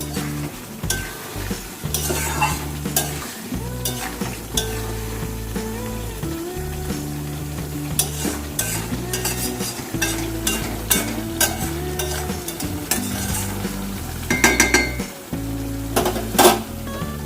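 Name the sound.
chicken being stir-fried in a pan for curry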